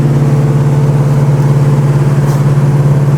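A 1970 Chevrolet Chevelle SS cruises at about 48 mph, its engine giving a loud, steady low drone with road rumble, heard from inside the car without any talk.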